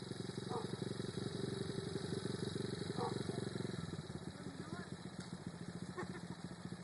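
A Coolster pit bike engine runs steadily while being ridden on sand dunes, a continuous putter that eases off slightly midway, with faint voices in the background.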